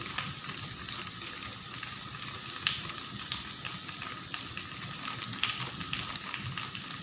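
Onion fries in a pan with a pinch of turmeric, giving a soft, even sizzle and crackle. It runs steadily at moderate volume with a few faint pops and no voices.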